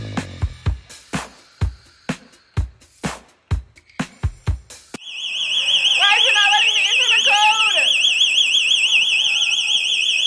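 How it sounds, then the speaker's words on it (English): A home security alarm goes off when a door is opened during a party, sharp repeated beeps followed by a loud, continuous warbling siren, with faint voices underneath. "when I have a party, it goes past 9:30 and somebody opens the door and it sets the alarm"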